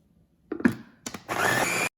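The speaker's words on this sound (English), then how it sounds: "Then we blend everything together." A kitchen blender blends a shrimp toast mixture of shrimp, cornstarch and white pepper. Two short motor bursts are followed by one sustained whirring run of under a second that cuts off abruptly into silence.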